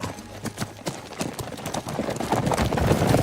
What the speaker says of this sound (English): I just love the sound of the horses, their hooves. That clopping noise.